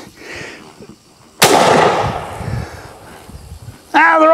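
A single sharp gunshot cracks outdoors at balloons on a spinning bicycle wheel, loud and close with a decaying echo, followed by a short burst of a voice speaking.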